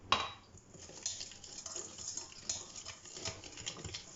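A lemon dessert mixture of sugar and dry ingredients is stirred in a bowl, with faint, close utensil scrapes and light clinks in an irregular rhythm and no voices.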